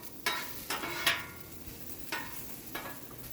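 Onions frying on a Blackstone griddle crackle softly and steadily, broken by several sharp scraping strokes as a spatula turns them.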